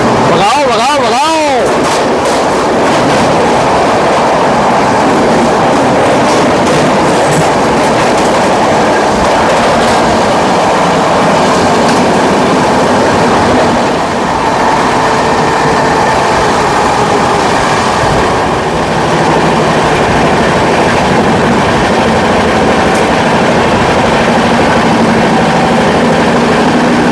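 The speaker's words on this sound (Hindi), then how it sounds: "और भाई ट्रेन ने ब्रेक लगा दिया भाई" The Odisha Sampark Kranti train runs loud and close on the Tatanagar to Delhi route, a continuous heavy rumble of wheels and carriages with rattling and clanks, while voices talk over the noise.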